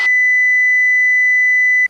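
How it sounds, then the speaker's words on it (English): A steady electronic warning tone sounds continuously for almost two seconds in an airplane cockpit as the autopilot disconnects, loud and unbroken, with a faint low cabin hum beneath and no talking. "I'm fixing to turn the autopilot off. You're going to hear a big loud beep."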